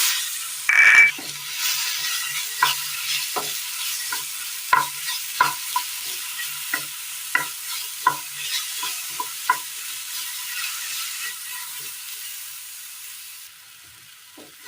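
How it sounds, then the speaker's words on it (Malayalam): Chopped plantain frying and being stirred in ghee in a pan, with a steady soft sizzle and a series of sharp scraping clicks as the spoon moves, each stroke distinct and close. "ഇതിലേക്ക് ഒരല്പം നേന്ത്രക്ക അരിഞ്ഞത് ഇട്ട് കൊടുക്കാം."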